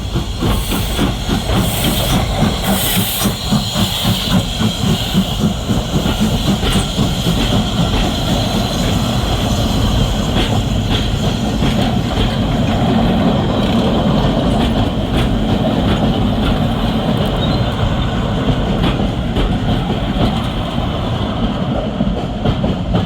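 Steam locomotive 41313 rumbles steadily and loudly throughout at the Mid Norfolk Railway, with a continuous hissing roar and rapid rhythmic chuffing beneath, sounding close and working hard.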